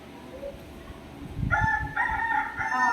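A rooster crows once, fairly close, its cock-a-doodle-doo rising over a low background rumble with no talking.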